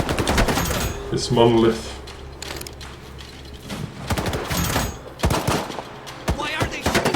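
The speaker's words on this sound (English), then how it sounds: "Why are they shooting at us? Why are you shooting at us?" Enemies fire on the player in Stalker 2 with rapid bursts of automatic gunfire and scattered single shots, loud and close. Overlapping voices talk through the shooting.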